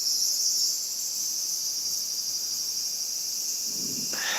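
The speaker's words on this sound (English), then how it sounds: "Cicadas are yelling." Cicadas drone in a continuous, shrill buzz outdoors in Japan, steady and fairly loud throughout, with a faint low rumble beneath.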